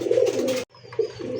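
A single Andalusian pigeon gives a loud, close, throaty coo, then a brief silence before softer cooing murmurs resume amid faint chirps.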